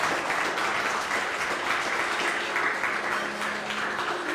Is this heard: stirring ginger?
no